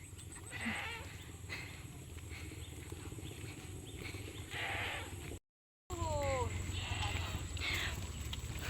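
A goat bleats a few times at moderate distance along a roadside, over steady outdoor background noise with some voice-like sounds.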